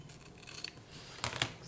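Two quick, crisp snips of scissors cutting through folded ribbon, close and quiet, following faint rustling of the material.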